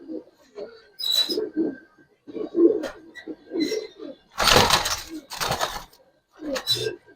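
Silver Giribaz pigeons coo close by in repeated soft, throaty calls, broken by a few louder broadband bursts, with some human voice mixed in.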